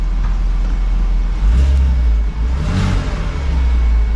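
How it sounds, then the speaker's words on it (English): A Porsche 986 Boxster S engine and exhaust rev up close and loud, the deep idle swelling in two throttle blips before settling back. "The engine right here behind me sounds great."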